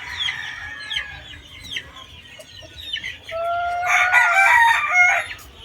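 A green-legged gamefowl rooster, about 10 to 11 months old, crows loudly and close by near the end, after scattered clucks and other fowl calls in the background.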